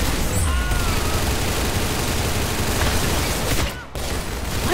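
Sustained rapid gunfire in the Roblox shooter Arsenal, a dense, loud continuous barrage that briefly drops out near the end before resuming, with no voices over it.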